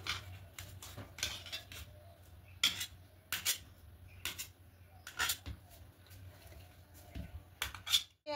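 A knife cuts a block of paneer into pieces in a home kitchen, making quiet, irregular taps and clicks on the cutting surface with soft pauses between strokes.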